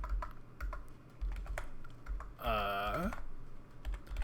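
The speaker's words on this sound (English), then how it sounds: "I'm slow at typing because there's a mic in front of my face." Irregular clicks of a computer keyboard being typed on, fairly faint beneath a room hum, with a brief tonal voice sound in the middle.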